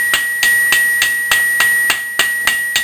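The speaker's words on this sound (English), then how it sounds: "she's just kind of getting a feel for the hammering process" A small metal gong is struck with a hammer in a steady rhythm, about ten evenly spaced, close blows over a sustained high ringing tone, with no talking.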